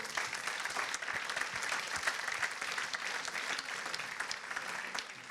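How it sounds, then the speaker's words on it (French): Clapping from an audience at a political campus event on Europe, a steady moderate round of applause with individual claps audible throughout. "allez, on vous applaudir."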